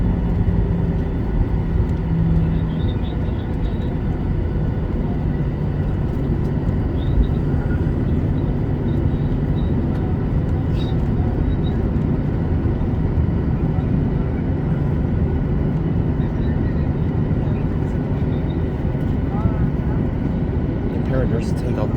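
Alaska airliner on the ground at Newark airport ahead of takeoff, a continuous loud cabin rumble and broad engine roar that stays steady, with faint clicks and rattles mixed in.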